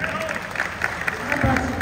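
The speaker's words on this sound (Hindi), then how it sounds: "इसकी इस भावना के लिए एक बार जोर से तालियां।" Crowd clapping at a devotional bhajan gathering in a Baba Shyam darbar, a dense patter of hands filling the space, with voices talking underneath.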